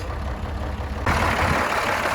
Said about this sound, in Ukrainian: Мотор робить дуже м'яко, півтори тисячі мотогодин, не димить.